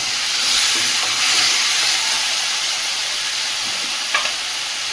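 Chicken frying with ginger and garlic in a pan, a dense close sizzle and hiss with stirring scrapes and a brief clink near the end, loud and continuous, no talk.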